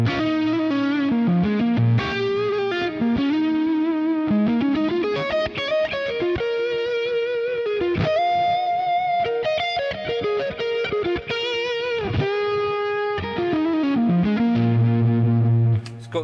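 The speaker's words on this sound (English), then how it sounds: "JTM Timmy, essentially going back to that more driven mid kind of gain tone, but with the Timmy in front" Electric guitar through a Fractal Axe-Fx modelling a Marshall JTM45 amp with a Timmy overdrive in front, giving a driven mid-gain tone; steady, loud chordal and single-note playing with ringing sustained notes, heard alone without talk.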